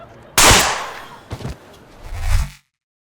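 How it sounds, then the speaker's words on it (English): A single sharp, loud gunshot cracks out, followed by a couple of softer thuds and a rumbling scuffle in a tense indoor standoff near a beam, with no speech. "All right, I'm gonna shoot you now."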